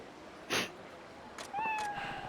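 A cat meows in the video game Like a Dragon: Ishin, a short cry followed by a longer rising meow, faint over quiet game background.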